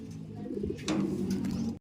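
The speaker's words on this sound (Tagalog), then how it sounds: "Ayan yung mga ibon natin." Pigeons coo softly and repeatedly at close range, low murmuring calls overlapping briefly.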